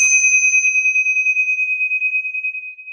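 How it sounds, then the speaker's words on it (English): Tincture bells are struck once and ring out in a pure, bright, sustained tone, loud and close, slowly pulsing as the shimmer fades. "we're going to ring those tincture bells to clear out any lower frequencies."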